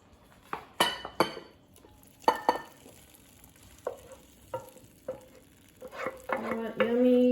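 Soft candied sweet potatoes in buttery syrup being spooned into a serving dish, heard as scattered utensil clinks and scrapes against cookware, wet syrupy dabs and a few louder knocks, ending in a brief sizzle.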